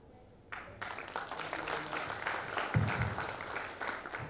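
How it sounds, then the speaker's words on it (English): An audience at a literature festival session breaks into applause after a moment of quiet, and the clapping swells and holds steady in a large hall. "With a huge round of applause, ladies and gentlemen"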